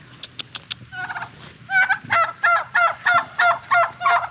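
Turkeys gobbling outdoors near a patio, a few short clucks and then a loud repeated gobbling call in rhythmic bursts, close by.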